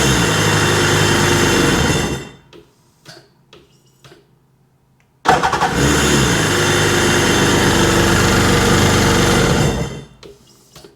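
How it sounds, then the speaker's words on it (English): Small engine cranks and fires, running loud and steady for a couple of seconds, cuts out into quiet clicks, then starts again and runs another five seconds before dropping away; the engine has a fault tied to a pulled connector. "Now she's firing right up every time after pulling that connector off."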